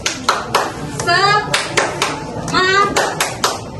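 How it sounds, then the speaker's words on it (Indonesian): Students in a classroom clap in short, sharp groups while people talk and call out excitedly between the claps. "Waktu ibu bilang tepuk semangat, kalian tepuk 3 kali."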